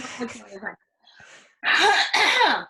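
A person talks briefly, pauses, then lets out two loud, harsh coughs close to the microphone.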